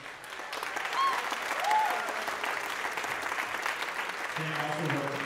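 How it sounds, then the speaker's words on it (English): At a high school winter wind band concert, the audience gives a round of applause for the two band directors: dense, steady clapping throughout, fairly loud, with a few faint voices mixed in. "give them a round of applause"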